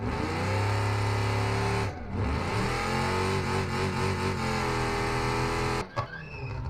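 A rally car engine in an off-road driving video game drones loudly with a steady mid-pitched tone that rises and falls as it revs, briefly dipping near the two-second mark and cutting out sharply near the end.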